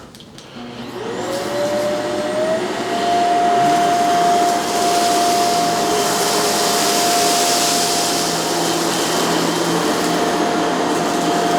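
Shark CZ351 canister vacuum running steadily over a rug, a loud continuous motor whine with a rising pitch at startup, then a sustained drone and suction hiss throughout, with no talking.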